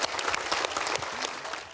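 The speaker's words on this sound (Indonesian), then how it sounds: "Tepuk tangan" An audience breaks into brief applause, a quick patter of many hands clapping at moderate loudness that holds steady for under two seconds.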